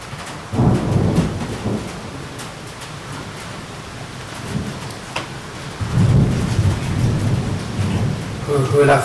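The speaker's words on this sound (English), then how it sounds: "Who loves thunderstorm?" A thunderstorm rolls in with heavy, continuous rain while deep thunder rumbles swell twice, near and loud, heard during an indoor evening class.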